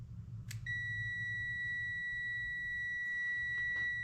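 Steady electronic continuity beep from a multimeter testing a motorcycle ignition switch, starting after a click and holding as a constant tone to the end, with a faint room hum beneath.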